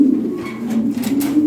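Lahori pigeons in a cage coo in soft, low, throaty bursts close by, a continuous rolling murmur with no talking.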